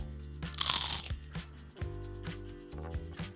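A spicy chicken sandwich takes one loud crunchy bite close up, followed by several softer crunching chews in an uneven rhythm.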